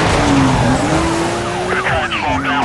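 White Porsche in a Need for Speed Most Wanted police chase, engine droning steadily while tires squeal and skid in sweeping, wavering screeches toward the end, loud and close over a busy background.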